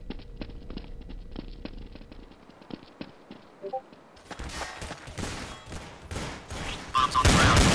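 Gunfire in Counter-Strike: Source on the de_train bomb defusal map, light scattered shots at first, then a dense, loud burst of rapid automatic fire building toward the end.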